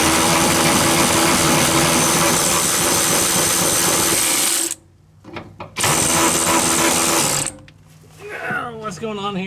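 A loud, close power tool buzzes steadily while the exhaust system is removed from a 1965 Pontiac GTO, cutting out briefly twice before a voice speaks at the end.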